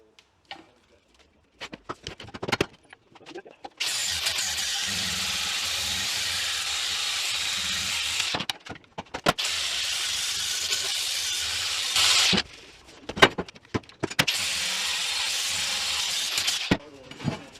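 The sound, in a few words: angle grinder with flap disc smoothing metal edges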